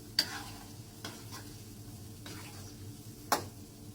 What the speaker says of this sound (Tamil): போட்டு நல்லா அந்த உப்பையும் நல்லா அந்த மிளகா சாந்தில் மிக்ஸ் பண்ணிக்கணும்